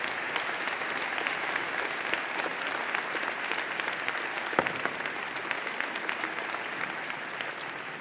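An audience at a university convocation ceremony applauds in a sustained, even roar of many hands, a broad steady clatter with one brief louder knock partway through.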